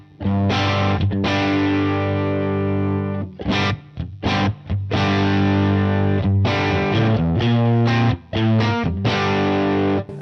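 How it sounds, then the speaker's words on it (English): Electric guitar played through a Helix modelled Marshall Plexi 50 with tremolo, a vintage Plexi tone without a bright switch, sounds as loud, distorted sustained chords and riffs with short breaks between phrases, no talking. "It's a Plexi 50 with a trem."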